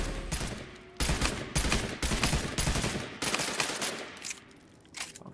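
Rapid gunfire from a gun in the video game Realm Royale on PS4 Pro rattles in dense, loud bursts separated by brief pauses, with no talk over it.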